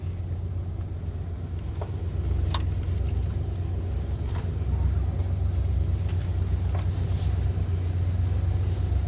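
A van engine idles and rumbles steadily at low pitch while the vehicle creeps up to a garage, with a few faint clicks and knocks over the continuous drone.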